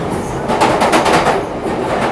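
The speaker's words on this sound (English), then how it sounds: "We're on a train" Loud, steady rumble and rattle of a London Underground train carriage in motion, with a continuous roar and faint rhythmic clatter throughout and no talk.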